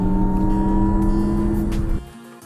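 A 2023 Lexus RZ 450e electric car in sport mode gives a steady, close synthetic hum with layered tonal whines, cutting off sharply after about two seconds and leaving a fading low rumble.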